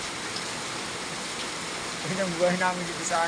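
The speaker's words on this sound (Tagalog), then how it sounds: "ang lakas ng ulan dito sa amin. Sobrang lakas." Heavy rain pours steadily over barracks with a leaking roof amid flooding in Malanday, a dense continuous wash of noise throughout while someone talks over it near the end.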